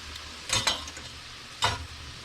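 Salmon patties sizzle in a frying pan with a low steady crackle, while a few sharp scraping clatters from a spatula against the pan stand out nearby.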